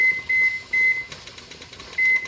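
A high electronic beep sounds in short repeated pulses, loud and close, with a brief gap of clattery noise between them.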